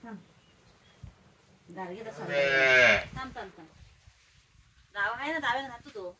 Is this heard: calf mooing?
yes